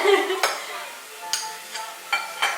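Butter sizzling in a pan, a soft continuous frying hiss with a few sharp clinks of a utensil against cookware.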